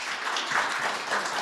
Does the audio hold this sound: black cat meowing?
no